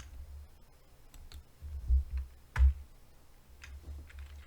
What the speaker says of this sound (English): So we're going to sudo vi bitcoin.conf.